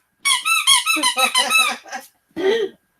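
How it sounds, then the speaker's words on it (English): A squeaky dog toy squeezed repeatedly in a quick run of about eight sharp, high squeaks, then a pause and one longer final squeak, close and loud, with no talking over it. "Just squeak the dog's toy."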